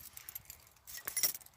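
A ring holding many assorted keys, being tried in turn on a 1970 C10, jangles and clinks in scattered light bursts, busiest near the end, faint and close.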